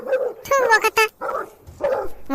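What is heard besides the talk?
dogs barking in a cartoon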